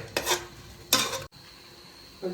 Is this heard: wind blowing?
no